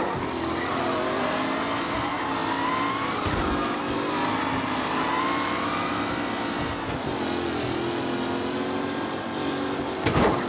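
Race cars roar around the track in Mafia: Definitive Edition, engines droning loud and close with rising and falling revs as they pass, a brief tire squeal near the end.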